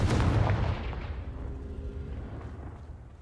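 A Confringo fire spell blasting in the video game Hogwarts Legacy, a single heavy booming explosion that hits at once and then rolls off into a fading rumbling tail.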